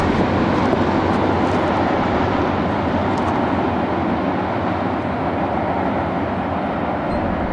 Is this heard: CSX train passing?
yes